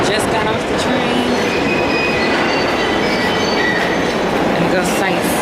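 A London train or underground carriage rumbles loudly and steadily at close range, with high metallic wheel squeals and screeching tones drifting over the continuous roar.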